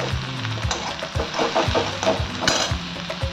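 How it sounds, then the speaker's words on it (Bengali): Chopped garlic frying in a pan for begun bhorta: a close, continuous sizzle with rhythmic spatula scrapes and knocks as it is stirred, and no voices. "দিয়ে রসুনটাকে একটু নাড়াচাড়া করবো"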